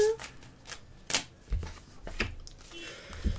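Tarot cards are shuffled and handled at close range in brief riffling bursts and soft taps, while a person talks.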